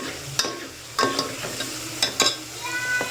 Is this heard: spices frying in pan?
yes